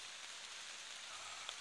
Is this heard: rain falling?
yes